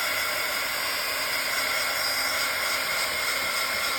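A hair dryer or heat tool drying gesso on a journal page blows a steady, close, even airy roar, unbroken for the whole stretch and with no talking.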